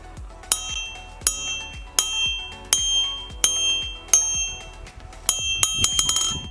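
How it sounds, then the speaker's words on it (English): A hammer strikes an anvil made from railroad track in a slow, even rhythm, each blow leaving a bright, ringing tone, then quickening into a rapid flurry of clanging hits at the end. "test the beautiful ringing sound of a hammer on the anvil"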